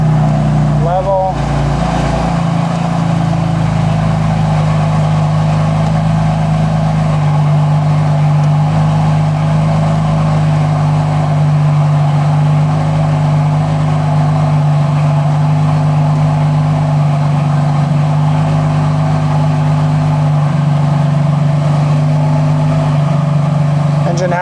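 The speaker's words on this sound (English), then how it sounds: "Engine has to get up to operating temperature, so we're gonna have to wait a minute for this thing to heat up" A car engine idling steadily while it warms up to operating temperature in a home garage, a constant low hum with a slight rev at the start, loud and unbroken for the full duration.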